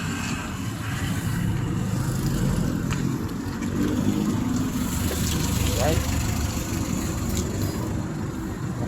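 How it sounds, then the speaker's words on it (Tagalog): Several cars queued up and idling beside a roadside stall give a steady low rumble throughout, with people talking nearby over the engine drone. "Maraming mga nakapilang sasakyan dito"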